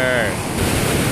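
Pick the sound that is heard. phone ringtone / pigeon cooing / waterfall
waterfall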